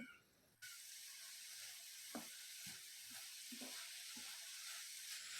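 Spinach and spice paste stirred in a pan after the lid comes off, a soft steady sizzle with a few light scraping knocks of the spoon, quiet and close with no voices.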